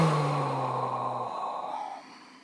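A single long, loud exhale through the nose or mouth during a guided anxiety-relief breathing exercise, close and alone, tapering away over a couple of seconds.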